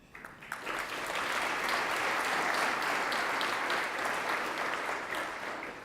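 A conference audience claps steadily after a talk on data visualization, a full, even wash of many hands swelling quickly and holding at a moderate distance before tapering slightly.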